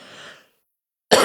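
A person coughing close by, a short rough burst that trails off into silence, then a second loud harsh cough about a second later.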